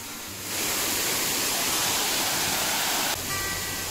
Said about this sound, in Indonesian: Sungguh indah pemandangan air terjun Tumburano